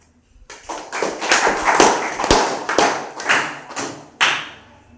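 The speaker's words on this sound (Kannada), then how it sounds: "ಚಪ್ಪಾಳೆ ಕರೆಕ್ಟ್ ಸ್ಟೆಪ್ ಬರಲಿ ಆಯಿತಾ" Students clap in a classroom activity, about a dozen loud, close claps in an uneven rhythm, with brief gaps between some of them.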